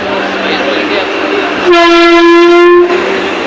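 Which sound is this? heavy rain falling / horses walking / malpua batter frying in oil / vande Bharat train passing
vande Bharat train passing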